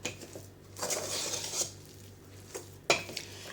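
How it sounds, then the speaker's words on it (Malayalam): Jackfruit batter with ground cardamom is mixed in a bowl, soft scraping and clinking of a spoon against the bowl in a few short bursts, quiet and close. "നന്നായി മിക്സ് ചെയ്യുക."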